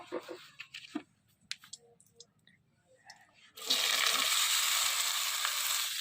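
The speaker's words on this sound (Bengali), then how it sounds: "সবজিটা ভাজে নেবো আগে" Vegetables dropped into hot oil in a pan, first quiet clicks and handling sounds, then a sudden loud continuous frying sizzle that holds steady to the end.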